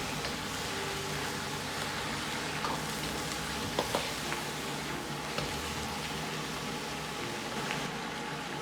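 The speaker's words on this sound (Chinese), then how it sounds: "油热后下入控干水分的鸭肉煸炒。" Drained duck meat stir-fries in hot oil in a wok, giving a continuous low, even sizzle with faint clinks of the spatula, fairly quiet and unbroken, with no voices.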